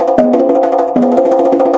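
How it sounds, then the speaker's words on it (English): Rapid drum rudiment strokes played on congas, a dense, continuous run of close, loud hand-drum hits with sustained ringing tones and a couple of sharper accents, heard alone. "I can't do drums on congas because it sounds like this."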